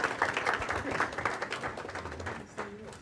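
Audience applause at a UNCF CPI keynote lunch, a steady patter of many hands filling the room for about two and a half seconds, then fading as a voice begins speaking near the end.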